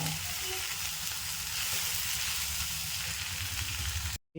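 Onions and banana flower fry in a hot pan for a Tamil banana flower egg stir-fry, a dense, even sizzle holding loud and close throughout before cutting off abruptly near the end, with no voices.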